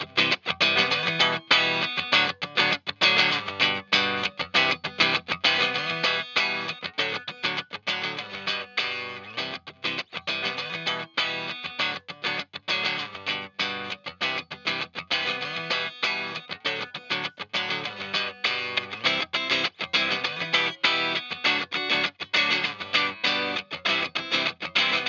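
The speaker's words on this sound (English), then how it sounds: "I'm going to fire up my looper pedal just so you can hear it the way it would be heard on the record." Layers of a looped electric guitar chord progression repeat through a looper pedal, a dense and continuous strummed texture with an effects-heavy, slightly distorted tone that plays steadily on its own for about 25 seconds.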